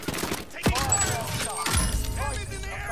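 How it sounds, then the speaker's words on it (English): Rapid bursts of gunfire in Call of Duty Warzone on Rebirth Island, a few sharp volleys and impacts in quick succession, moderately loud amid game ambience. "I'm getting shot from the back."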